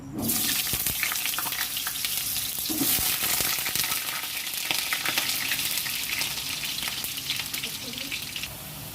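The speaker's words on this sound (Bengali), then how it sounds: "এবার আমি আলুগুলো ভেজে নেব।" Potatoes fry in mustard oil, giving a dense, close sizzle that crackles steadily and loudly for several seconds, with scattered pops and light stirring and no speech.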